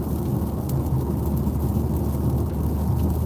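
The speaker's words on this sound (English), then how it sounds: "we just started raining now" Steady heavy rain roars with a dense low rumble of wind, constant and enveloping with no pauses or voices.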